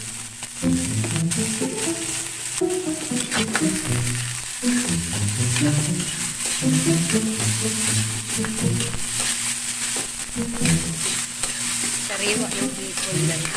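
Fresh small shrimp sautéing in a pan with vegetables, a steady sizzle and fry under repeated scraping stirs of a utensil, close and continuous with no voices.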